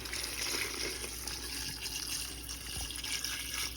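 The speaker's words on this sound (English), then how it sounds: "we're going to add 4 cups of water" Water pours steadily into a pot of tomato-free chili stew, four cups added in a continuous, close-up splash and gurgle with no talking.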